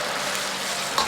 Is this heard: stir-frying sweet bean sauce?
yes